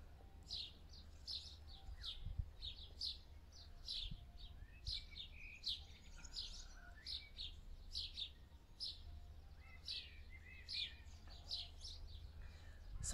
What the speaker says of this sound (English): but we have the birds that are all happy right now